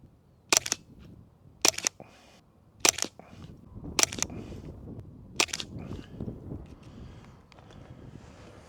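Five rifle shots ring out one by one at roughly even intervals, each a sharp, loud crack followed by a brief outdoor echo, with wind rumbling low throughout.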